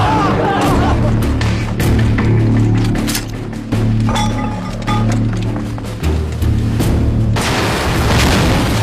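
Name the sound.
explosion of artillery pieces being blown up, film effect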